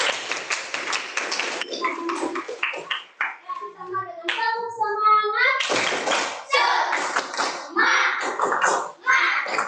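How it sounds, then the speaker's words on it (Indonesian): Children in a classroom clap their hands together in quick, loud, rhythmic bursts at the start and again later. A voice speaks between the rounds of applause and over them. "Wah, betul ya, tepuk tangan semuanya."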